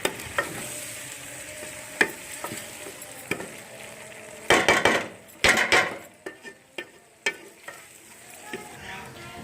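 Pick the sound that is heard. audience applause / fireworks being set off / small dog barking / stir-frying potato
stir-frying potato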